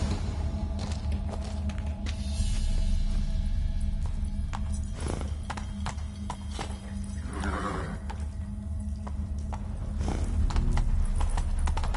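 A horse in The Witcher 3: Wild Hunt clip-clops along with steady, close hoofbeats over low ambient game music, and there is a faint whinny partway through.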